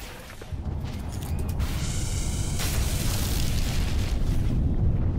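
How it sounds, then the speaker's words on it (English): Weapon fire in the video game No Man's Sky, a dense, sustained roar of blasts and bursts that stays loud and steady throughout, with no talking. "Shooting goes everywhere."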